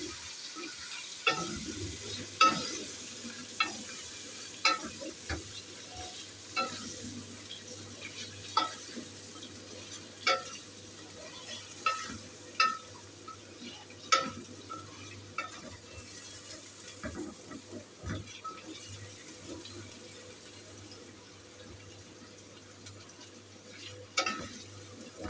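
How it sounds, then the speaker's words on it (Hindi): Garlic and ginger paste sizzling in a karahi for chicken tikka Shinwari karahi, a steady soft frying hiss broken by regular clinks and scrapes of a spoon stirring, close by with no voices. "ये देखिए कैसे फ्राई हो रहा है माशाल्लाह से।"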